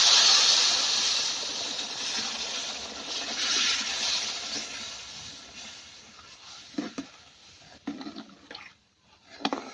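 Hot water poured into roasted semolina and gram flour for halwa, a loud hissing, steaming rush at first that settles into bubbling and a few stirring scrapes.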